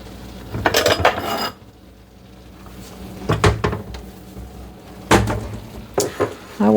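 A kitchen cupboard opens and closes with wooden knocks while a bowl is pulled out, clattering against other dishes in a few sharp, close bursts separated by brief pauses.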